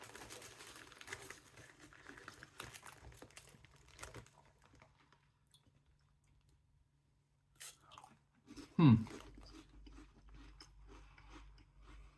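Lay's Creamy Forest Mushroom potato chips are munched up close with soft, quiet crunches and chewing, then a louder bite near the end.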